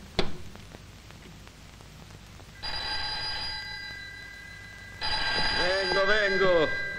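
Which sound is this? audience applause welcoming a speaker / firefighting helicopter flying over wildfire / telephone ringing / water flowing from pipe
telephone ringing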